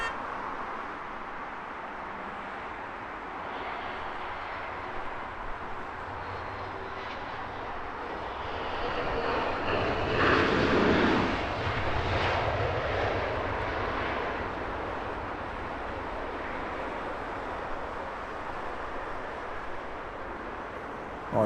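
Emirates Airbus A350 jet passing at Heathrow Airport, a broad engine roar that swells gradually to a peak midway and then slowly fades while remaining audible to the end.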